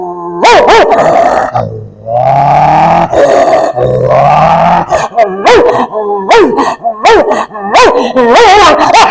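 A man vocally imitates dogs fighting, producing loud snarling growls, yelps, barks and howl-like wails in rapid, overlapping bursts, close and intense throughout.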